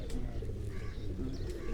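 Pigeons coo softly from a rooftop, low rounded calls in a short run over a steady background murmur, with no voices.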